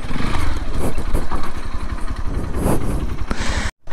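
Motorcycle engine churning loudly and steadily while off-roading near a dam, with rough, uneven throttle and a brief dropout near the end.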